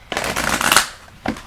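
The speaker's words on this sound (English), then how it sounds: "3 more shuffles? That'll do it." Tarot cards are shuffled by hand, a loud close riffle of flicking cards for most of a second, followed by a shorter second flutter after a brief pause.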